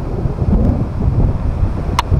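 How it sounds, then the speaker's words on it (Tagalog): Strong wind buffets the microphone at a beach in Baler, Philippines, with a constant low rumble, broken by a brief sharp click. "Mahangin dito ngayon mga kabukid sa Baler. Sobrang hangin."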